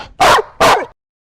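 A dog barks twice in quick succession, loud and close, each bark short and sharp, followed by silence.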